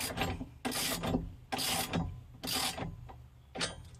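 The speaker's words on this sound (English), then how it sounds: "Put your wrench on there. And torque it down till the bracket gets snug." A wrench torquing down a racing harness bracket on a G35, heard as several distinct bursts of rasping, ratcheting turns with short pauses between them, close and fairly loud with no talk.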